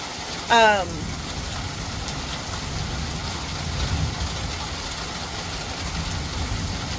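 Heavy rain keeps up a steady, even wash of hiss, interrupted early by a brief high chirping call.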